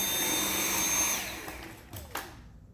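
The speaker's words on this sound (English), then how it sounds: "can we clean my whole house with a cordless vacuum cleaner?" A Dyson V7 cordless vacuum cleaner running with a loud, steady high whine that winds down and cuts off, followed by a couple of soft bumps.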